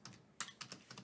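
Code is typed on a computer keyboard in Jupyter, a quick run of soft, close key taps with one sharper press in the middle, heard on its own.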